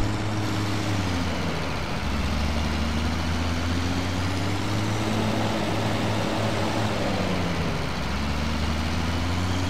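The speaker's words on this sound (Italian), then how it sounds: "Oh, si sente il rombo del motore." A tractor engine in a farming video game rumbles steadily and loud throughout, its low drone dipping and rising in pitch with changing revs, with no talk over it.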